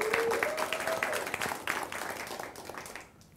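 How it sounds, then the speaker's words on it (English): A short burst of audience applause for school honorees at an awards ceremony, dense clapping that fades out over a few seconds. "could we give one more round of applause to these well-deserved honorees?"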